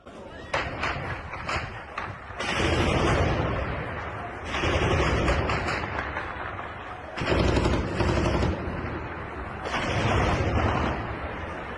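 Stun grenades and gunfire shot into the air by soldiers dispersing a crowd of protesters, heard as several loud, harsh bursts a couple of seconds long, separated by brief, quieter gaps.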